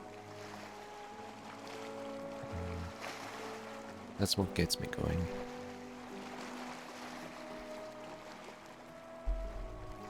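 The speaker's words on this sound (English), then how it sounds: "I just enjoy going through nothing here because of the sounds of the waves and the music." Gentle ocean waves wash continuously in a video game, with soft in-game music layered over the surf and a person talking over it, plus a short burst of brief clattering near the middle.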